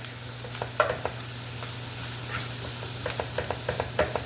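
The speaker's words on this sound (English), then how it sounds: "So there I got my mushroom sauteing with my onions" Mushrooms and onions sautéing together in a pan give a soft, steady sizzle with a few light clinks and scrapes of stirring, fairly quiet and close with no talking.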